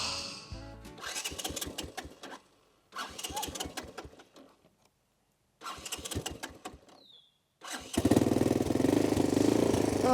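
A Japanese car engine revving in short, rough bursts, each separated by a silent pause, before it settles into a steadier, louder run at the end.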